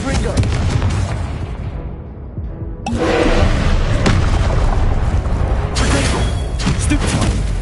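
In the Hogwarts Legacy video game, the Confringo fire spell sets off a deep booming explosion. A sustained rumbling blast follows, dense and loud throughout, with another surge near the end.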